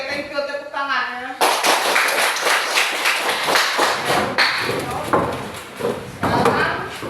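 A class claps hands in a classroom. A short spoken phrase comes first, then a burst of loud, close, uneven clapping runs for several seconds with slight pauses and swells.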